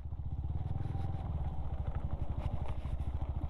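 A motorcycle engine rumbles loudly and steadily up close while riding over a rough, rocky mountain road strewn with large stones, like an old riverbed, between San Nicolas, Pangasinan and Itogon, Benguet.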